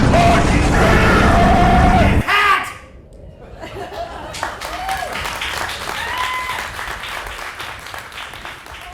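Loud applause fills the first two seconds, then cuts off, leaving scattered chuckles and murmurs from a theatre audience.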